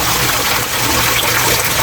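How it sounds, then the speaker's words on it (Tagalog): Steady broadband rush of water pumped up through an upright pipe by a submersible pump in a small homemade tilapia filter and waterfall setup, a continuous close pour with no breaks. "yan ang nandiyan yung submersible, yan ang humigop ng tubig"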